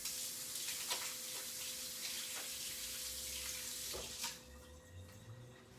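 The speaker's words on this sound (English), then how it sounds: "Let me wash my hands real quick." Kitchen faucet running steadily close by as hands are washed, a continuous soft hiss with faint splashes and a clunk near the end as the flow changes.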